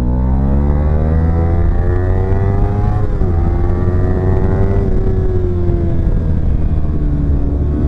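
Kawasaki Z300 motorcycle engine pulling hard as the throttle reopens, a loud steady drone climbing in pitch, dipping briefly at a gear change, then rising again close to the rider.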